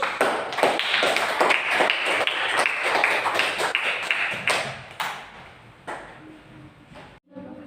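Classroom applause from a group of students, a burst of many quick overlapping claps that carries on for about five seconds and then thins into a few scattered claps before stopping.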